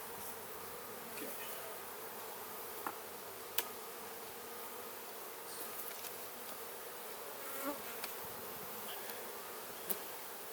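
Honeybees buzzing in an open medium box of a beehive, a faint continuous droning hum with occasional small clicks and taps, no talking.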